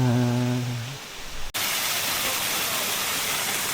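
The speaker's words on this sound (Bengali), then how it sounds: "এটা রাতের ঝর্ণার কুলুকুলু ধ্বনি" A waterfall at night in a water garden rushes in a steady, broadband wash of water; a brief tonal sung phrase fades at the start before the babbling flow dominates.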